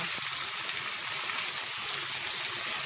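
Tomato, yellow pepper and green chilli frying together in a pan, a steady close sizzle with soft crackling and no voices.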